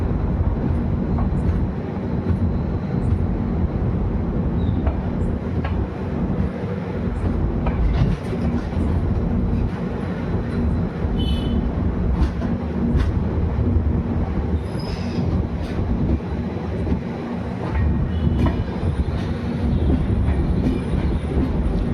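Kota–Sri Ganganagar Superfast express train rolling past on rails, a loud, sustained rumble with wheel clatter and occasional squeals throughout.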